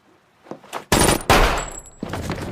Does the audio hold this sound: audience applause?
no